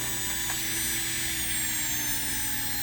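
A MelodySusie Jade electric nail file drill spinning at 30,000 RPM gives off a steady, loud high-pitched whine with a constant motor hum, running alone without interruption.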